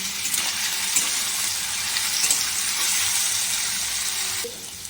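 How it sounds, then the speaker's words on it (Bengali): Potatoes fry in hot oil in a wok with a steady, loud, dense sizzle that holds for several seconds and then drops off sharply near the end, close up and without speech. "এবার কড়াইয়ের মধ্যে তেল দিয়ে আমি আলুটাকে ভাজা বসাবো"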